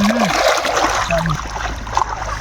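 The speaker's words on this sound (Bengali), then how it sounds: "ভালো করে কিন্তু ঝকা ঝকা ধোয়া হবে ভরত ভালো করে ধুইস" Goat meat being washed by hand in a basin of water, with continuous splashing and sloshing close by and a voice speaking faintly in the background.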